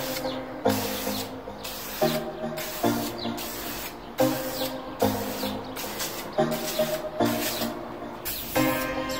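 Repeated bursts of wrinkle-finish spray paint hiss onto an engine cover, each lasting about a second with short gaps between, close and steady in rhythm.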